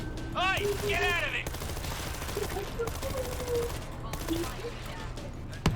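Gunfire and grenade-launcher blasts in the co-op zombie shooter World War Z, set in New York: a steady crackle of shots and bursts runs throughout at moderate loudness, with brief voices mixed in.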